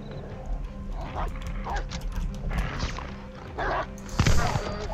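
A dog barks and whimpers in the World War II shooter game Call of Duty: Vanguard, several sharp yelps amid busy game noise and footsteps, with someone talking over it.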